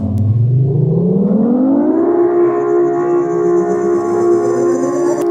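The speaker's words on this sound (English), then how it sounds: "And I merged that with a siren." A loud synthetic laser tone sweeps upward and then holds steady, blended with a wailing siren-like drone, continuous and up close.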